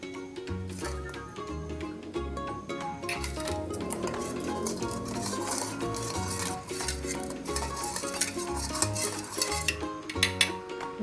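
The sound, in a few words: stirring ground spice paste with water for fried chicken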